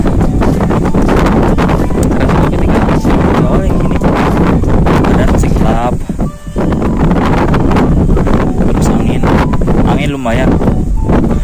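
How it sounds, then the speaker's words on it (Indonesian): Strong, constant wind roars across the microphone on a mountain trail near the summit of Gunung Sumbing, loud and buffeting throughout with brief lulls, while hikers talk underneath. "sekarang angin kenceng banget anginnya."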